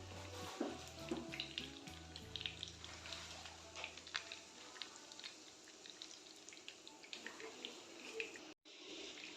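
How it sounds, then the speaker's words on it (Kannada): Spiced food fries in a pan with a steady, crackling sizzle and spattering pops throughout, close and continuous, with faint trickling water sounds mixed in and no voices. "ನೋಡಿ ಫ್ರೈ ಆಗ್ತಿದೆ."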